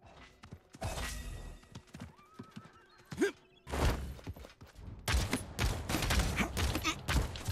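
A horse in Realm Royale whinnies loudly amid clattering hoofbeats, with scattered thumps and bursts of gunfire-like crackle building toward the end.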